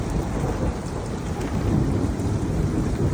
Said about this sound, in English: Let the thunder roll.